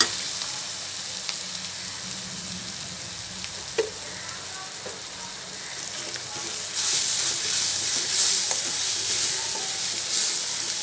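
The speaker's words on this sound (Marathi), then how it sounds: "चांगलं परतून घ्यायचं" Clam masala spices with garam masala sizzle and fry in a hot pan, a steady close hiss that swells louder partway through as the mixture is stirred, with occasional faint scrapes.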